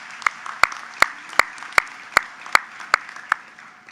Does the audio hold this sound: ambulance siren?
no